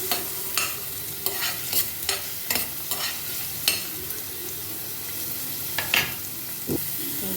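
Onion and green chilli pieces fry in hot oil for an Andhra-style brinjal curry, a steady sizzle broken by repeated scrapes and clinks of a spatula stirring the pan, with no voices.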